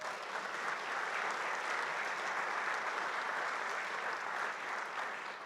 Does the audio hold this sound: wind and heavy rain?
no